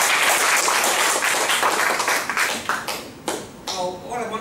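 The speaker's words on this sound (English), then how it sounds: "Give all yourself a round of applause for that." Audience at a Toastmasters club meeting applauding, a dense wash of many hands clapping that thins out toward the end as individual claps stand out.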